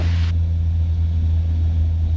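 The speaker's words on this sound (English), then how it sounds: "You hear the engine really winding up?" A light aircraft engine drones steadily in the cabin during level flight with power being pulled back, a constant low hum with a brief higher hiss at the start.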